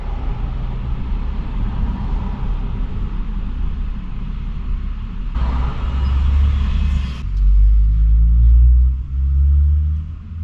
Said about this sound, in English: you get a load of cars whizzing past you at high speed